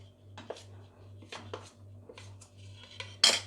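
Rice flour is stirred in a pan over a low flame for chalimidi, heard as quiet, intermittent scrapes and clinks of a spoon against metal over a low hum, ending in a sharper clatter.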